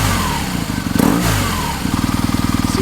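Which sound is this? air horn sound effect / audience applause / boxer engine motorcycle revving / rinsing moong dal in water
boxer engine motorcycle revving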